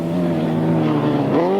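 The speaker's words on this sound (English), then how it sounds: "the 1000cc Genesis motor going extremely well there for young George" A 1000cc Genesis motorcycle engine races hard on a grasstrack at a 1994 Gatwick meeting, a loud, steady droning roar that rises in pitch toward the end.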